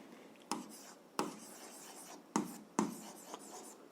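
Pen or chalk writing on paper or board during an algebra lesson, quiet scratchy strokes in short separate bursts with pauses between, close and alone.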